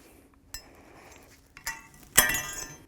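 Metal brake pad tins pried off the caliper bracket of a 2015-20 GMC Yukon's front brakes with a pry bar, giving a few sharp metallic clinks spaced apart, the last one loudest and ringing briefly.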